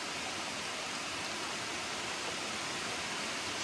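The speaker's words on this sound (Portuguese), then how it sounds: "de fundo a queda da água" A natural waterfall with drinking-quality water gives a steady, even rushing roar that stays constant throughout, with no voices.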